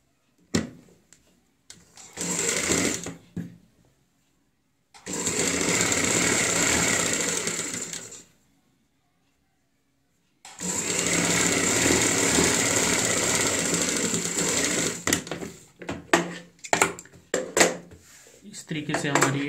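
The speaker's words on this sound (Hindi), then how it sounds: "अब हम इसको पलटते हुए ऊपर से सिलाई लगा लेते हैं।" A sewing machine topstitches along a kurti's high neck collar in several close, buzzing bursts of rapid stitching, with silent gaps and short choppy runs between them.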